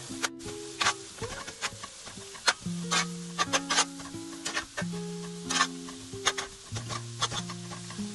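Sliced onions being stirred and pulled apart in a pan on a tawa-style cooking setup, with repeated scraping and stirring clicks over a low sizzle, close and fairly busy with no talk.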